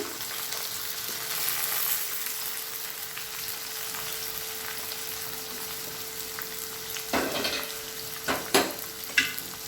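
Boiled broad beans sizzle and fry in a pan with oil and chilli powder, a steady close hiss, then a few sharp scraping stirs near the end.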